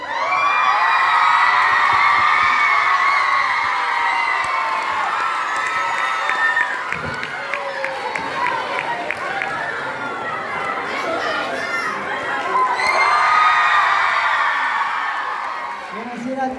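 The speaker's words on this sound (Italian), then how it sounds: "poi fate un applauso" Audience at a film festival cheering, whooping and clapping loudly as a guest takes the stage, a sustained roar of crowd noise with shouts and chatter, dipping briefly midway before swelling again.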